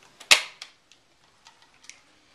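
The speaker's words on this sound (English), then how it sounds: "Charging handle, home with a hop up system, it's metal, makes a cool noise." Metal charging handle on a JG AK47 Beta Spetsnaz airsoft gun, racked once with a sharp, loud metallic snap followed by a few faint clicks and rattles.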